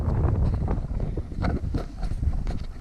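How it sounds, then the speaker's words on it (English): Strong wind on a high mountain col buffeting the microphone in heavy low rumbling gusts, loud and close, with no voices. "I'm at the South Col. It's windy"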